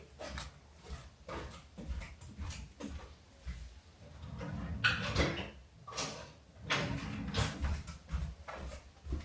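A dog moves around close by with scattered clatter and shuffling, occasional faint whimpers or snuffles amid household knocks.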